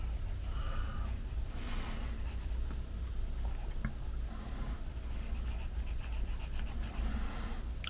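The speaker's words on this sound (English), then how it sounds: "Rough sketching it here" A pencil roughs out a sketch on paper for a gouache painting of a female face in an art journal: a soft, continuous scratching and rubbing of strokes, close and quiet against a low room hum, with no talking.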